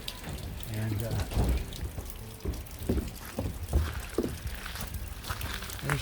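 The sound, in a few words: rain falling in an outdoor courtyard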